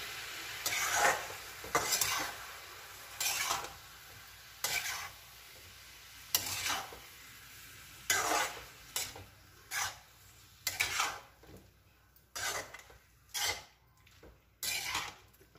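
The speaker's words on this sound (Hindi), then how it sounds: "और ये धनिया पाउडर और साथ में हम टमाटर का पेस्ट भी डाल लेते हैं और इसे अच्छी तरह से मिक्स कर लेते हैं" A spoon scrapes and stirs through masala with coriander powder and tomato paste in a pan, giving repeated soft rasping strokes at an uneven rhythm, fairly quiet and close over a low sizzle.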